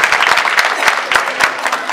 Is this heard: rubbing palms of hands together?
no